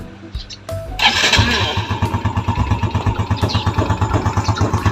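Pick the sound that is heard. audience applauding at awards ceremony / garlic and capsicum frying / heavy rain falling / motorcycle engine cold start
motorcycle engine cold start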